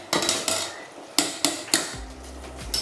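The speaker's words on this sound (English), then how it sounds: "So I'm going to put my washed rice in." Washed rice tipped into a boiling pot on a kitchen stove, giving several sharp clinks and rattles of grains and utensil against the metal pot, then a low steady bubbling hum near the end; no one speaks.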